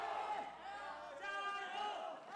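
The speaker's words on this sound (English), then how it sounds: "And oh, crowd noises." Crowd in a live esports arena during an LPL Spring 2023 League of Legends match, cheering and yelling in a sustained swell beneath a commentator's voice.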